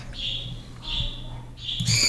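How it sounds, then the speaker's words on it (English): Pet birds call indoors, giving three drawn-out chirping calls with a steady low hum underneath and a sharper squawk at the end. "those are happy birds. That's like them calling the flock together to eat."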